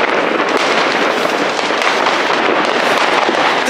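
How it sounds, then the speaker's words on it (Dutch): New Year's Eve fireworks and firecrackers set off across a neighbourhood, a dense, continuous crackle of pops and bangs filling the air at steady loudness, with no voices. "nu gaan we even, nog even genieten van het vuurwerk."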